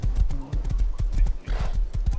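Horse hooves clip-clop at a quick, steady trot in the survival video game Rust, loud and close, with a brief whinny-like tone mixed in and a short hissing burst midway.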